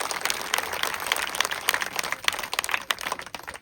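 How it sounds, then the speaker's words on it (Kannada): Crowd applause at a packed temple event, a dense patter of many hands clapping at moderate distance, continuous and fairly even for a few seconds with no clear talking over it. "ತಾವೆಲ್ಲ ಒಂದ್ಸರಿ ಜೋರಾಗಿ ಚಪ್ಪಾಳೆ ತಟ್ಟಿ"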